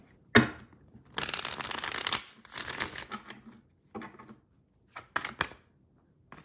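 Crisp bursts of tarot cards being riffled and bridged, a long rapid flutter followed by several shorter shuffles and a few sharp snaps.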